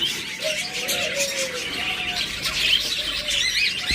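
Budgerigars kept for breeding chirp and warble continuously, with short bright calls and squawky tweets overlapping at close range.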